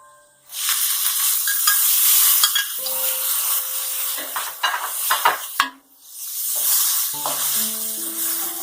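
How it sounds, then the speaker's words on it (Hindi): Cumin seeds and peas sizzle loudly in hot oil in a pan while being stirred for a vegetable masala macaroni, with scraping spoon strokes and clinks of metal against the pan. "हल्का सा भून जाइए, फिर इसे मटर शामिल करेंगे।"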